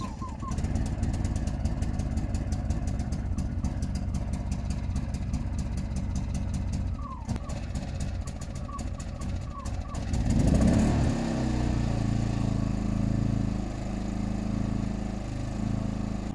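Small portable generator for charging a camper trailer, started outdoors on a snowy day, running with a steady low engine drone at moderate level after a brief louder start-up, with a few short knocks earlier.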